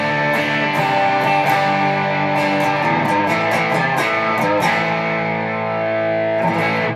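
Electric guitar through a TC Electronic Darkmatter Distortion pedal with all knobs at noon: loud, saturated chords ring out with crisp picked strums, sustained distorted tone filling the space before a final strum.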